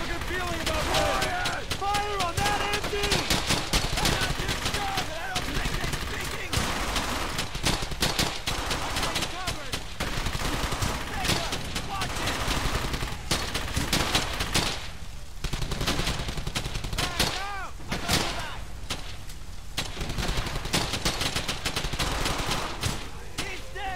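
Gunfire in Brothers in Arms: Hell's Highway, a continuous battle of rapid shots and bursts with voices shouting over the top.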